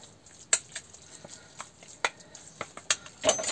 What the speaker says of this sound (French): Voilà, on le mélange bien.